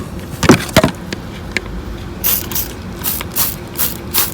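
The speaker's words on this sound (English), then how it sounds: "So I started spraying around, and then I sprayed on the diverter valve." Several short hissing spritzes of soapy water from a spray bottle onto a car's blow-off diverter valve to find a leak, close up, in an uneven rhythm over faint mechanical background noise.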